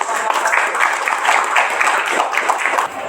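Loud, close applause from a classroom group after a presentation, steady dense clapping for about three seconds that stops abruptly at the end.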